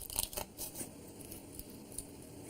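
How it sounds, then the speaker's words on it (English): Cracking and cutting through a brittle salted egg shell, several short crisp snips and crackles close up, loudest at the start then sparse light clicks. "So I like to make a crack and then cut right through."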